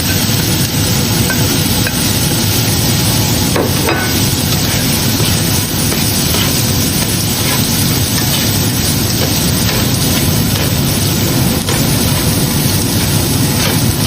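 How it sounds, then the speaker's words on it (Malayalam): Egg and chicken sautéing with soy sauce in a pan for fried rice, a loud continuous sizzle and hiss with occasional stirring clatter throughout, no voices. "സോയ സോസ് വെച്ച് സോട്ട് ചെയ്ത് വരുന്ന സമയത്ത് നമുക്ക് നമ്മൾ ആക്കി വെച്ച മുട്ടയും അതേപോലെ ചിക്കനും ഇതിലേക്ക്"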